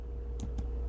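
Two quick key clicks on a computer keyboard while typing a web address, close and faint over a low steady hum.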